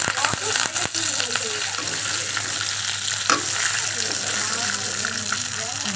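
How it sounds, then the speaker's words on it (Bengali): Dried red chillies frying in hot oil for a Bengali potato fry, giving a steady close sizzle with a few sharp clatters of stirring near the start. "তেলটা গরম হয়ে গিয়েছে শুকনো লঙ্কা দিলাম"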